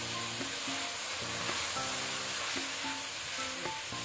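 Half a kilo of cubed chicken sizzles in a hot pan for white sauce pasta, a dense, steady, close frying hiss with light stirring clatter throughout and a faint tonal hum underneath, no voices.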